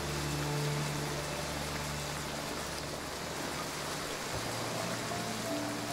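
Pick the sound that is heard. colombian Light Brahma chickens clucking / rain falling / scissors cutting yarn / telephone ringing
rain falling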